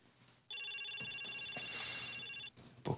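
Telephone ringing with an incoming call, one steady electronic ring tone lasting about two seconds, fairly faint, with brief rustling before and after.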